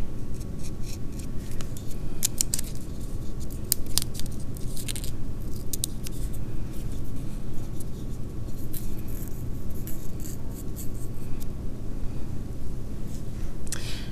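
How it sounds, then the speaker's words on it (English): Scissors cutting a paper Notan design, a continuous run of close, crisp snipping and rustling paper over a steady low room hum, with no talk. "So I'll just cut that quick."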